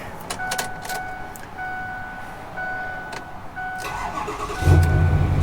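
A 2008 Ford F-250 with a 6.4L Powerstroke diesel, fitted with a Cummins turbo, starts in 30-degree cold: chime tones and clicks from the cab, then the engine cranks and catches with a loud, low rumble near the end.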